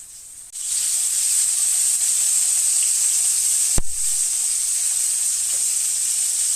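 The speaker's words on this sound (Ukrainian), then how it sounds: "Все, смажимо з однієї сторони." Steady sizzling and crackling of hake frying in hot oil in a pan, continuous and close, with one brief sharp tap partway through.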